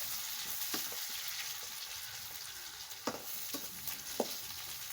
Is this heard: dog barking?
no